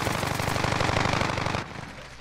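Automatic gunfire in the Call of Duty: Modern Warfare video game: a rapid, even stream of shots rattles loudly for about a second and a half, then cuts off into quieter ambience.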